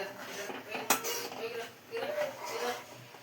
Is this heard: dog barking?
no